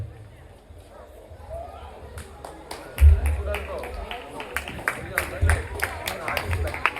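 An audience at a Christmas debate event in a church hall claps for a speaker, with scattered sharp claps starting after a few seconds of talk and continuing in an uneven rhythm alongside speech.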